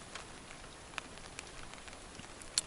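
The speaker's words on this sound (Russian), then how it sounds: "Дождь идет." Scattered raindrops tap faintly and irregularly on a surface, soft ticks over a quiet hiss.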